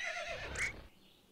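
A horse in the video game To The Moon lets out a single short, clear whinny that rises and then fades, with faint hoof clops around it and no talking.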